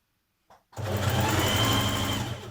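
A sewing machine stitches the side seam of a sweatshirt from the Burda 6246 pattern. After a brief click, the motor starts and runs close and steady with a fast, even whirring hum until the end.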